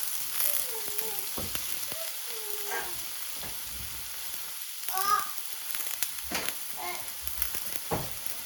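Garlic, onion and green chillies fry in a pan with a steady sizzle, broken by a few sharper clinks and stirring scrapes, while faint background voices drift underneath.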